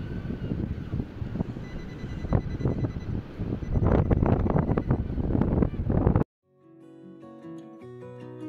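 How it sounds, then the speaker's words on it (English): Strong wind buffets the microphone on Blackpool and Cleveleys beach, a loud rumbling roar with gusty bursts that cuts off abruptly, followed by a separate tonal sound. "It's very windy, so apologies if you can't hear me"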